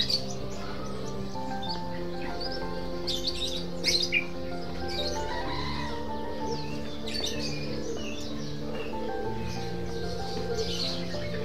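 Many caged birds chirp and tweet together at a bird market in Yogyakarta, a dense layered chorus of calls with a steady crowd murmur beneath and no clear talk.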